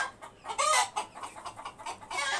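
Several roosters on a poultry farm call and cluck nearby in repeated bursts, with a couple of louder squawking calls standing out over a quiet background.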